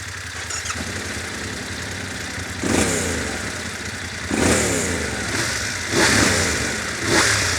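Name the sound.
adventure motorcycle engine revving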